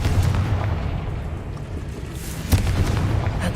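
A Confringo fire spell blasts in Hogwarts Legacy, a low rumbling boom over steady game ambience, with a sharper burst near the end.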